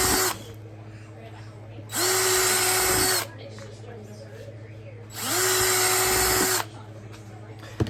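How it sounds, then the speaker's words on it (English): An electric power drill bores a retention point into a holster for an RIA-USA 5.0E pistol in two distinct whirring bursts, each about a second and a half long, loud and close, with a steady motor hum and quiet pauses between. "First thing I'll do is drill the retention point."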